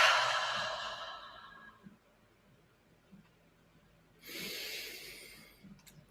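Deep meditative breaths with a chant, a long loud exhale at the start and another after a quiet pause, close and alone.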